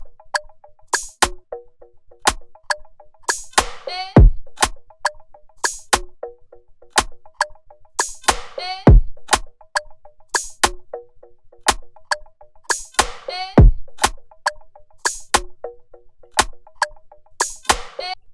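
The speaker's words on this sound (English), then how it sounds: "the first thing I started with was this drum loops" An Afrobeat drum loop built in FL Studio plays alone: punchy kicks, snappy hits and a low tonal percussion line repeat in a tight, steady groove several times over.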